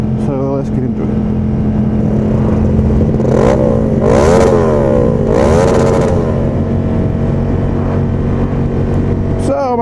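Honda CX500 motorcycle engine droning steadily while riding, a loud continuous hum with wind noise, briefly rising in pitch, under someone talking throughout.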